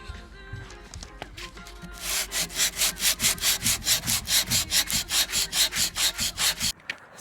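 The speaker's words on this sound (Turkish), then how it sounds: "Dolabı zımparaladım." Rhythmic hand sanding of a wooden cabinet, roughly twenty quick back-and-forth abrasive strokes in a steady beat, close and fairly loud, after a short stretch of quieter handling.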